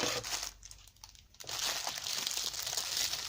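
Crinkly plastic packaging of a diamond painting kit being opened up close: loud continuous crackling and rustling with a short quieter pause, then steady crinkling again.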